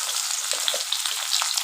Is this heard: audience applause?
no